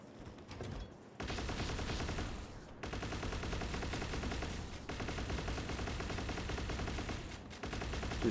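Sustained automatic gunfire in a video game shoots out turrets on a level 55 oil rig, dense rapid bursts running almost continuously with brief pauses between volleys.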